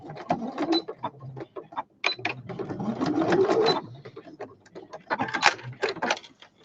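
Sewing machine stitching a fabric sewing machine cover, running in several short bursts with pauses as the work is turned, close and moderately loud, with brief talk in between.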